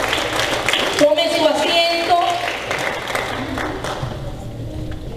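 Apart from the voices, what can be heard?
audience applause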